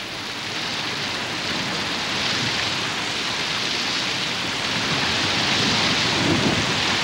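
Heavy tropical rain pours in a dense, constant roar over the rivers of Brazil and Peru, with a deep rumble of thunder swelling underneath; no voices.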